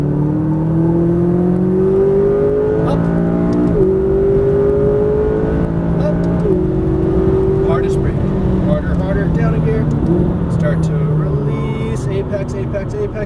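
McLaren 570S on a race track, the engine revving up through the gears again and again, each rising whine cut by a quick shift, loud and close from inside the cabin under an instructor's talk.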